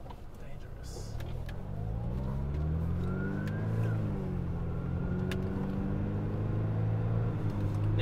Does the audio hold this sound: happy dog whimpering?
no